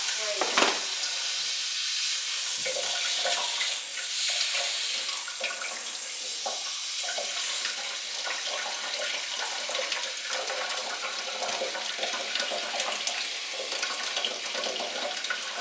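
Water leaks from a pipe above a boiler, a continuous hiss and spray that runs steadily and fairly loud throughout with small splashy fluctuations.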